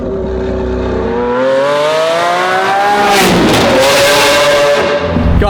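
A Lamborghini Aventador V12 fitted with a Capristo exhaust revs loud and close, its pitch climbing steadily, breaking briefly around a gear change, then settling into a sustained roaring drone with no voices.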